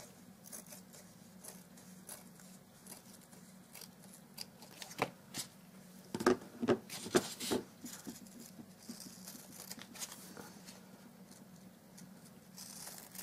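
Scissors snip away excess fabric while a box is being lined, a quiet run of close, crisp cuts clustered in the middle, with softer handling sounds before and after.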